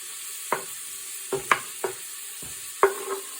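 Onion going into a one-pot goulash pasta, with several sharp stirring scrapes and knocks in the pot, spaced irregularly over a faint background hiss.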